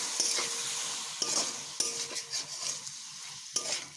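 A spoon stirs potol and chhana curry with a little water in a pan, soft scraping strokes repeated several times over a quiet sizzle, close and fairly faint.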